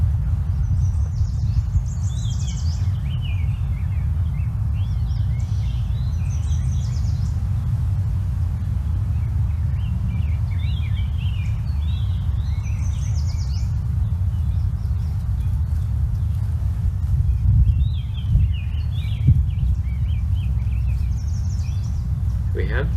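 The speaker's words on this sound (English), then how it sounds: "We have two main birds here. One we've heard already. Yellow warbler." A yellow warbler sings in short, bright phrases repeated at intervals, fairly distant and light over a constant low rumble of wind or traffic.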